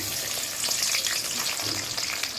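Spice pastes frying in oil for a hilsa fish curry, a constant close sizzle with a few faint stirring touches and no speech.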